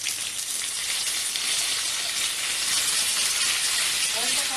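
Onion and garlic paste frying in hot oil with potatoes for an egg and potato curry, giving a continuous loud sizzle and steamy hiss with no pauses.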